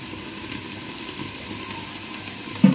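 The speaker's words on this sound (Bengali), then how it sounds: "জলটা ফুটে গিয়েছে, আমি এবার একে একে মাছগুলো দিয়ে দেবো।" Pabda fish drop into boiling water while kaju pabda cooks. The pot bubbles and hisses softly and steadily, ending in a brief, louder plop near the end, with no talking.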